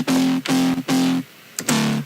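A harsh, heavy FM wavetable synth with distortion, pitched down an octave, hits four punchy, buzzing sustained notes with brief gaps between them, loud and upfront.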